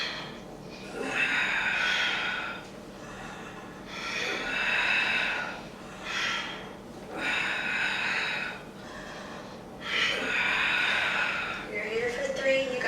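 Heavy, rhythmic breathing during a held exercise pose, with long loud breaths repeating about every two seconds, close and strained, with no talking.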